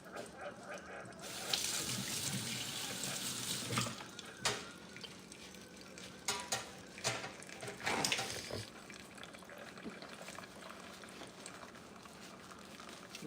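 Eyeglasses being washed under a running tap: a steady wash of flowing water with splashing surges and a few brief clatters of handling, fairly close and without talk.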